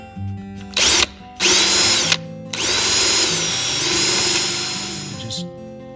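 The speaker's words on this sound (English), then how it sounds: "So I find sometimes just using a Forstner bit just to put it in here lightly." Power drill with a Forstner bit cleaning old hide glue from a hole in a wooden rocking chair part, several loud whining bursts starting and stopping, then one long steady run up close.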